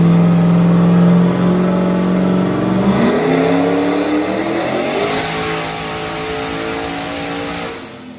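An LS-swapped Nissan 370Z under boost gives a loud, sustained engine roar that climbs in pitch as it revs, with turbo whine on top, then eases off and fades at the end.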